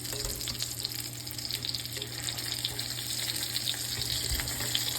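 Chicken cutlets fry in a pan with a steady, dense hiss and crackle, close and even throughout, with no voices.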